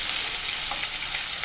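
Capsicum tossed into a pan of frying chopped vegetables such as cabbage, carrot, onion and tomato gives a steady, close hiss of sizzling with a faint stir near the end, and no voices.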